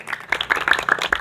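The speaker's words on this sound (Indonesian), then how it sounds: "Tepuk tangan dulu." Students in a classroom clap their hands in a short, uneven burst of separate claps, close and moderately loud, with no talking.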